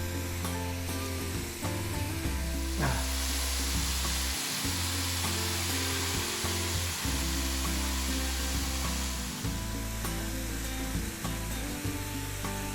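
Pork fries in a saucepan with a steady, close sizzle and hiss, broken by occasional clinks and stirring knocks of the pan.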